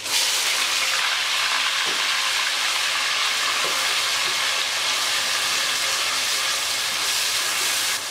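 Chopped onions hit hot oil in a pan for a mutton karahi, with frying whole spices such as black cardamom, producing a steady, even sizzle and hiss that holds its level for the whole stretch, with no talking.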